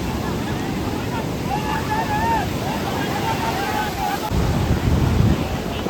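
Sea waves surge and roll in steadily at Kunkeshwar beach on the Konkan coast during traditional rapan net fishing, a dense wash of surf and wind growing louder near the end, with faint voices in the background.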